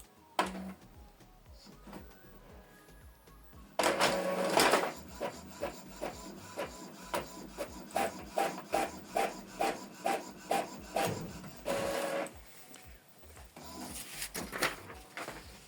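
An Epson ET-2862 inkjet printer whirs and clatters through a test page, its print head sweeping back and forth in a steady rhythm of repeated mechanical strokes, fairly close.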